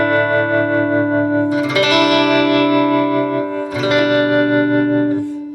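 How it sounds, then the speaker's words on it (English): Clean single-coil electric guitar through a Fender-style tremolo on a Neural DSP Quad Cortex, sustained chords pulsing with a steady wavering throb, re-struck twice, loud and alone. "that's a beautiful classic type of Fender style tremolo"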